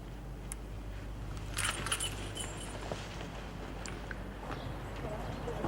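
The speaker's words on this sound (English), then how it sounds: "Here are my keys." Keys are handed over, with a faint jingle of keys in a quiet interior amid low background noise and movement.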